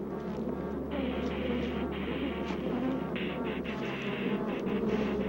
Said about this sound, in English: Killer bees will pursue a victim great distances, stinging all the way.